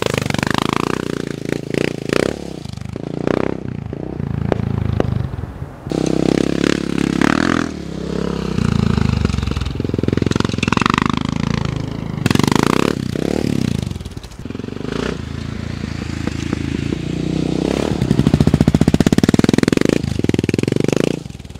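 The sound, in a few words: Honda Dominator NX 650 motorcycle engine with cheap Yoshimura replica exhaust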